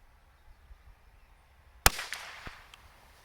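One loud, sharp crack from a Bergara BMR Carbon .22 Long Rifle, with a brief ringing tail and a fainter knock just after, outdoors on a quiet range.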